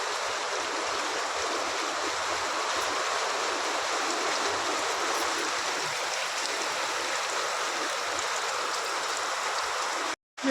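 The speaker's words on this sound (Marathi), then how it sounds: "लय जोरात पाऊस चालू आहे." Steady, heavy rain without thunder hissing without letup for several seconds, broadband and constant, ending with a brief cut at the very end.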